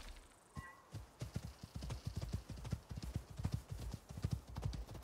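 Horse hooves clip-clopping in a steady galloping rhythm while riding in the game OpenWorld Olympus, close and continuous, with a brief whinny-like tone near the start.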